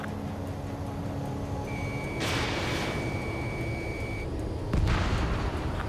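SAM site destroyed in Ace Combat 7: bursts of explosion noise over a continuous jet engine roar, one near the middle and another louder blast toward the end, with no voices.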